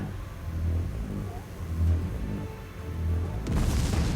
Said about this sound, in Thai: อ้าวระเบิด